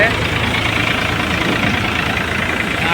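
A tractor engine runs steadily and loudly while powering a Bajaj thresher separating chickpeas, a constant droning rumble of machinery with no breaks.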